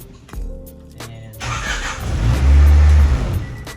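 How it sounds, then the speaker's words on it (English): A Honda Del Sol's engine cranks and catches, settling into a loud, close, rising idle with a brief rev in the last seconds. "the car starts."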